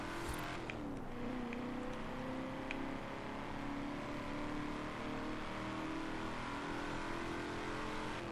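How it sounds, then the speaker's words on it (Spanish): Muscle car in Forza Horizon 4 revving and burning its tires, a harsh broadband roar with rising engine tones and a few sharp clicks at the start, steady and moderately loud with no speech. "déjate de quemar rueda, que están caras"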